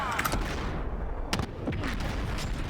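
Rapid gunfire with scattered explosive bursts from a video game shootout, including a thrown grenade, sharp repeated shots crowding the whole stretch under faint background voice.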